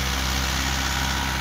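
A Mahindra 575 DI XP Plus tractor with a long-stroke diesel engine runs at a steady, unbroken drone, close and fairly loud, with no voices over it.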